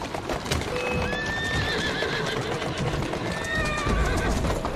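A horse in the Assassin's Creed Syndicate video game whinnies in a long rising and falling neigh, with clip-clopping hooves and ambient city noise beneath, fairly close and steady.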